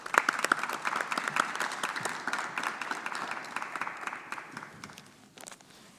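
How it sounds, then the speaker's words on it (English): Audience applause at a 2021 Keene High School special awards night, a crowd clapping briskly at first, then thinning and fading gradually over several seconds. "Let's have a round of applause for all of tonight's award recipients."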